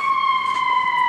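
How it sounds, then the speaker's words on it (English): An emergency vehicle siren sounds outside, a steady sustained wail holding one pitch throughout, moderately loud and continuous with no talking. "Then I gotta hear these sirens and shit all the time."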